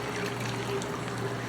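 Water steadily poured into a pot for smothered chicken gravy, a continuous soft liquid stream holding even in level throughout, close by and alone.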